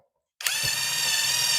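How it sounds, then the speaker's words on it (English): A power drill bores a hole to mount a hardwired EV charger, kicking in abruptly after a brief silence and holding a loud, steady high-pitched whine close to the listener. "I'm gonna drill a hole."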